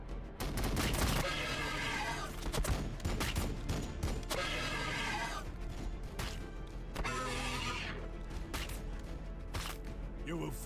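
Gunfire in the Warhammer 40k Battlesector video game, loud sustained volleys of rapid shots and blasts layered over a battle soundscape, with a voice shouting at the start.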